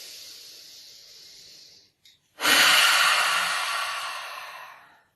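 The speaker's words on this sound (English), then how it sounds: "Let's exhale together. Take a big breath in." A deep communal yoga breath, a soft airy inhale followed after a short pause by a long, loud exhale that slowly fades.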